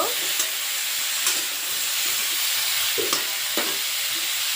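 Mixed vegetables and vegetable stalks for a Bengali chorchori sizzle steadily in a pan, with a few sharp scraping stirs of a spoon breaking through the constant frying hiss.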